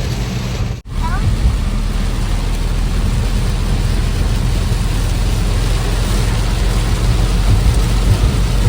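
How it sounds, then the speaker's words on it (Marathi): Sudden heavy rain pours down around a vehicle in a constant loud hiss with low rumbling underneath, briefly cut by a sharp dropout near the start. "इतका पाऊस वाढलाय"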